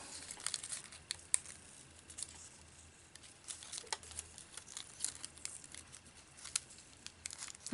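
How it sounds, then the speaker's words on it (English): Tape being torn off paper, quiet crinkling and peeling crackles in short irregular bursts, close up and soft. "I'm going to tear the tape off."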